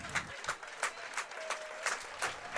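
Baseball crowd at an evening game clapping in a steady rhythmic beat, roughly three claps per second, moderately distant, with faint crowd murmur beneath.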